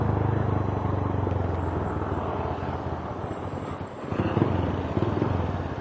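Engine of a motorcycle fitted with an Akrapovic open exhaust pipe runs loud and close, holding a steady throaty idle before brief revs swell near the end, with no one speaking.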